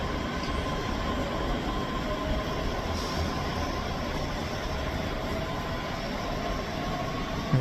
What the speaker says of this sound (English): Departing out now is the 10:06 Scotrail service from Glasgow Central to Edinburgh Waverley.